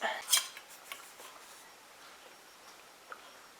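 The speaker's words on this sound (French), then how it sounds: "je mélange et je coule ma préparation dans mon petit pot" Small clinks of a utensil against a little pot or jar while a homemade Vicks-style ointment is stirred and poured, a sharp cluster of close clicks at the start, then sparse faint taps in a quiet room.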